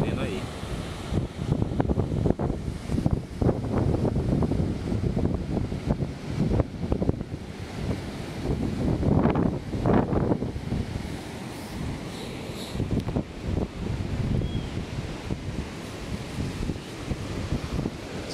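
Strong wind and breaking surf at the beach in Vila Atlântica, Mongaguá, the gusts buffeting close and loud while waves wash in rolling swells, with a voice talking over them.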